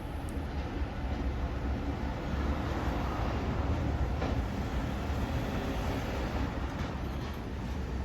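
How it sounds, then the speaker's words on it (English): Two locomotives haul a passenger train through Mortdale on the way to Kiama, a steady, loud rumble of engines and rolling wheels filling the whole stretch with no let-up and faint rail clatter underneath. "we see the two locos heading for Kiama once again"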